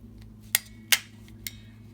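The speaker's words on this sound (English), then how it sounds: "then I'm just going to attach these with a stapler." A stapler fastens layered paper embellishments for fall forest paper clips, giving three sharp, separate clacks spaced about half a second apart over a quiet background.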